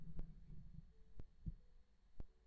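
A microphone rotated on its stand gives off faint, sharp clicks, about four of them at uneven intervals, heard up close in a quiet room with a low hum underneath.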